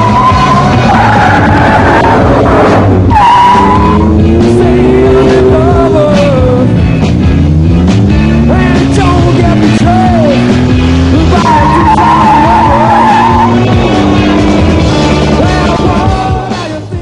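Tires screech in short squealing bursts over a loud, revving car engine during a car chase in a 1989 film, with shouting voices in Hindi mixed in throughout.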